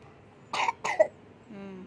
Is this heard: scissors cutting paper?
no